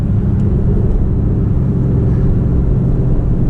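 A Porsche 991.1 Carrera 911 with PDK accelerates in second gear, a loud, steady low engine rumble and road drone heard from inside the cabin.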